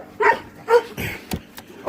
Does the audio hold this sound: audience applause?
no